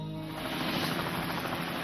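A helicopter's rotor blades churn with a steady, dense whirring roar that stays at an even, fairly loud level throughout, with no voices over it.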